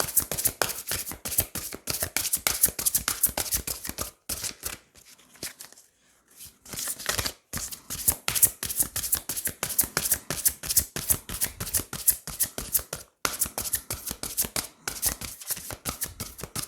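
Tarot cards sliding and being drawn in a reading: dense, rapid papery riffles and flicks across most of the stretch, with a brief lull in the middle, close and fairly loud, no voice.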